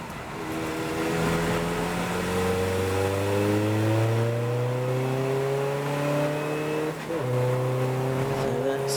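A race car sweeps past during the 750MC Club Enduro endurance race at Silverstone GP circuit, its loud engine note rising and sustaining, then briefly dipping and changing pitch as it passes, with a faint voice in the background.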